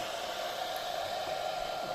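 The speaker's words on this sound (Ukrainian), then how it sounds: "кулер крутиться помаліше вже" A cooling fan spins inside a 12V/24V battery charger at moderate speed, giving a steady airy whir with a faint tonal hum, constant and close with no talking.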